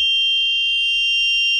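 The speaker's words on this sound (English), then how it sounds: "Oil warning, water warning, and it's very loud." A loud, continuous electronic alarm tone sounds from an oil and water pressure warning on a gauge system, a piercing steady beep sustained throughout with no talking.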